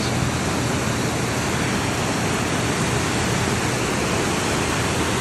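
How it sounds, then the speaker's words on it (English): Swollen San Pablo creek churns with fast floodwater in an atmospheric river storm, producing a dense, steady, close-up rushing roar that fills the whole stretch without letup or speech. "The water's moving really, really fast."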